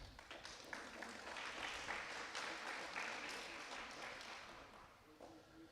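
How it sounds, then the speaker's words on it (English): Applause from the audience at an energy symposium for two Hydro One Networks presenters, a steady, fairly distant wash of clapping that holds for several seconds before thinning slightly near the end. "Give them another big round of applause."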